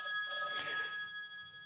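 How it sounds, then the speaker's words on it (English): A mobile phone rings during a recorded conversation, a brief electronic ringtone with bright sustained tones that swells and then fades, faint in the room. "I don't know whose phone that is."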